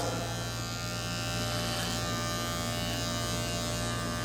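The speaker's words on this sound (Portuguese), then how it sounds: "eu vou estar utilizando aqui a máquina de corte para estar abaixando um pouquinho aqui" An electric hair clipper fitted with a number 2 guard trims the sides of a head in a barbershop, a steady close mechanical buzz humming without pause.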